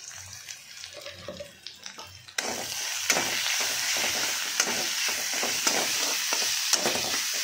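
Greens frying in a pan with slit green chillies, turmeric and salt, a steady close sizzle broken by regular scraping stir strokes, growing louder and denser after the first couple of seconds, with no talking.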